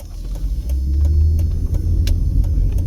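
A car driving through the streets of East Las Vegas with a steady low engine and road rumble from inside the cabin and faint ticking clicks throughout.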